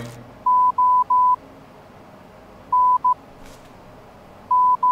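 A summoned radio in the Garry's Mod video game beeps out a Morse code message: clear, loud single-pitch tones in short groups of long and short beeps, separated by pauses, over a quiet background hiss.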